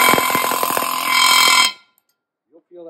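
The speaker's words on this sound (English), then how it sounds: "And with your air hammer," A loud pneumatic air hammer rattles in rapid bursts for over a second while seating a valve guide liner, then cuts off abruptly, followed by silence and a brief voice.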